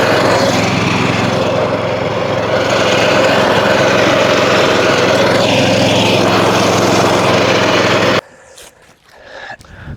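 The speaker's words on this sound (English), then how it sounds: "the cylinder mower, it's just not going to cut through everything" A cylinder reel lawn mower cutting grass, a loud steady engine drone with whirring blades close by for about eight seconds before it stops abruptly, leaving quiet rustling.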